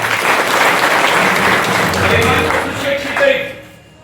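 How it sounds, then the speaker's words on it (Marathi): An audience at a devotional kirtan gathering claps in warm, sustained applause that swells and then fades out near the end, with a voice faintly audible underneath. "त्याच्याबद्दल तुमचं टाळी वाजून स्वागत"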